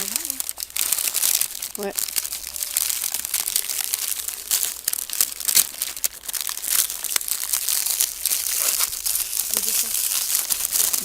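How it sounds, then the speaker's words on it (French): Paper being peeled off and crumpled close by, a dense continuous crinkling and tearing that runs the whole time with brief speech over it. "On enlève le papier, moi je l'enlève."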